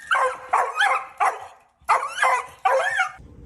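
A small dog barks in a basement, about six sharp, close, loud barks in quick bursts with a short pause in the middle and no voices.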